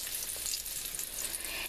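Arancini rice balls frying in hot oil give a steady, close sizzle with dense crackling bubbles that runs without a break and with no one talking.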